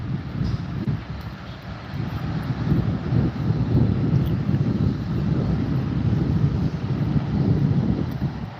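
Airplanes at Teterboro Airport in New Jersey on a Friday night, a broad low engine roar that swells and holds steadily in the distance, mixed with wind noise on the microphone, no voices.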